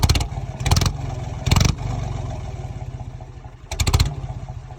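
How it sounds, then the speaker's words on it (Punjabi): A modified mini tractor engine runs close by with a rough, pulsing chug, broken by a few sharp bursts of rising revs and clatter, with no talking. "ਆ ਲੋ ਕਰੋ ਚੈੱਕ ਟਰੈਕਟਰ ਦੀ ਆਵਾਜ਼"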